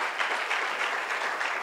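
A church congregation applauds together during a French and Kinyarwanda sermon, a steady wash of clapping that holds at an even, fairly loud level throughout.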